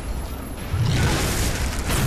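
A spell explosion in the VR game Stones of Harlath bursts into a broad, rumbling boom about three quarters of a second in, then holds as a loud, dense roar to the end.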